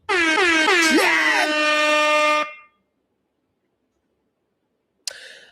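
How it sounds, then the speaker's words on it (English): A loud blaring air horn sounds for about two seconds, its pitch wavering. Silence follows, then a short sharp burst near the end. "here's your fucking air horns."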